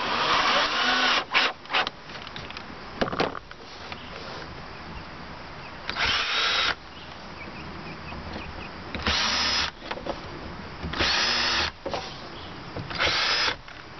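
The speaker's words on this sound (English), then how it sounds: "pilot hole is just so these screws go in easy" A power drill bores a shallow pilot hole into a solar panel frame in short, loud whirring bursts separated by pauses, repeating several times with a faint background hum between runs.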